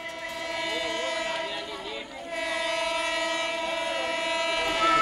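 A Central Railway local train near Kalyan sounds a sustained horn over rumbling rail noise, the tone dipping briefly mid-way before resuming and holding to the end, fairly close and loud.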